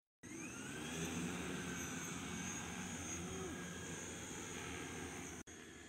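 An unmanned multicopter drone's propellers spin up for takeoff, producing a steady, close whirring hum with a high tonal whine that holds level, then drops briefly near the end.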